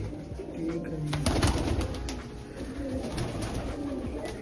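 Pigeons in a loft belonging to Soni Sarpanch Chachrari coo steadily and close by, soft repeated throaty calls overlapping throughout, with faint murmuring voices in the background.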